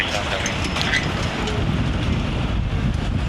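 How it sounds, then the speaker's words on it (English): Strong wind in Old San Juan buffets the microphone with a constant low rumble and rushing noise, loud and close, with no clear voices. "that wind is no joke"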